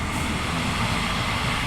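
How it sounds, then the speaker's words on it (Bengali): A train passing by, a steady broad rumbling roar with rushing noise held throughout the short stretch, no voices. "কোথায় চলে যাচ্ছে ট্রেনটা?"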